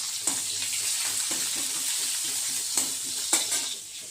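Pointed gourd and potato pieces sizzling in a frying pan, a steady hiss broken by occasional sharp crackles and stirring scrapes, close and continuous.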